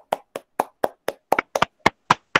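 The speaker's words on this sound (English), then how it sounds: "let's give them a round of applause" A single pair of hands claps about ten times at a steady, moderate pace, crisp and close, with no crowd or voices.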